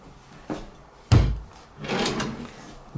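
Drawer under a bathroom sink opened and closed, a soft knock, then a sharp wooden thud, followed by a sliding scrape, all close and quiet in a small room.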